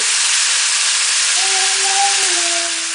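Chicken frying in hot oil in a pot for a tangy chicken curry gives a loud, steady sizzling hiss, with a faint tonal whine rising in the second half and no talk.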